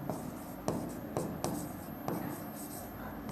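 Chalk or a marker scratches across a board during a maths lesson in several short, close strokes with sharp taps at their starts.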